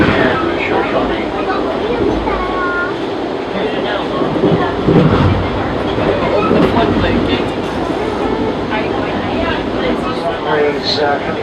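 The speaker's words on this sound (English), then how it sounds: "Trains coming down on the mountains there." An Amtrak passenger train runs through mountains bound for Glacier National Park, a steady loud rumble and clatter of wheels on rails from on board, with voices talking over it throughout.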